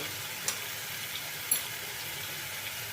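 Masala spices fry in a little oil for a chicken dish, making a quiet, continuous sizzle with a couple of tiny pops.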